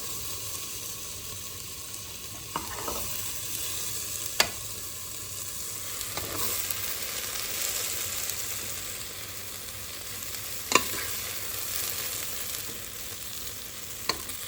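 Vegetables for gumbo are scooped from a cooking pot, with a soft continuous sizzle and a few sharp scrapes and clinks of a utensil against the pot, with no talking.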